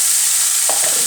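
Onion and tomato frying in a pan for mutton curry, a steady high hiss of sizzling oil with a brief stirring scrape near the end, no voices.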